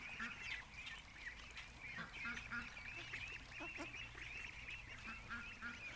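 Adult ducks quack and honk in a steady run of calls, faint and somewhat distant, over a quiet low rumble of background noise.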